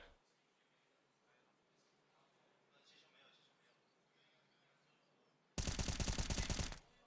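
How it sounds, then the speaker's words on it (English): A Desert Eagle pistol fires in an esports match, heard as a loud, rapid burst of gunfire near the end after quiet background ambience. "JiJieHao with a nice deagle shot actually removes Noise from the round"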